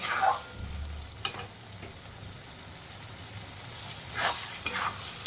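Spice masala with tomato for a chicken dish is stir-fried, with a low background hiss and a few short bursts of scraping and stirring, near and moderately loud.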